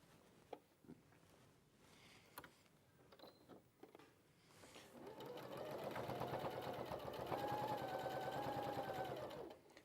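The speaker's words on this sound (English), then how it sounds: "So you're sewing through all the layers?" Sewing machine stitching along a seam line through all the layers: soft handling clicks and rustles come first, then a steady, close, whirring run of stitching holds for several seconds before stopping.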